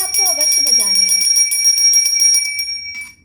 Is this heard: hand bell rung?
yes